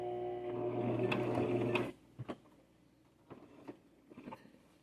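A sewing machine stitching a purse whirs in a steady, close burst for about two seconds, then stops, leaving scattered mechanical clicks and taps.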